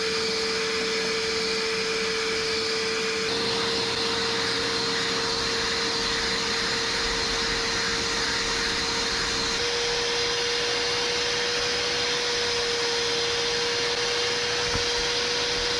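A small carpet extractor shampoos a dirty car seat, a loud continuous whining suction drone with a steady tone that shifts slightly as the nozzle moves across the fabric.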